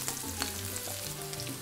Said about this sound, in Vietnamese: Mình phi hành phi tỏi hơi nhiều đó